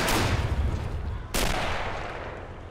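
Gunfire in the war game Men of War Assault Squad 2: two sharp, loud shots about a second apart, each trailing into a long rumbling decay.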